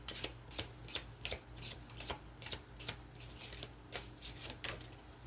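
Tarot cards are shuffled in a quiet room, a run of rapid riffling bursts repeating in a steady rhythm, close and fairly soft.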